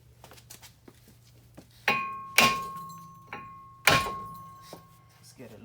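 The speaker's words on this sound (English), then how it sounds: "so we're gonna hammer it a little bit." Several sharp metallic hammer strikes on a stuck brake rotor of a 2023 Mazda 6, spaced irregularly, with a ringing tone after each blow and quieter taps between.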